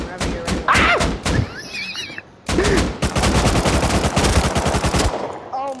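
Bursts of rapid automatic gunfire in the survival game Rust, loud and close, with dense rattling volleys and thuds, partly overlapping people talking.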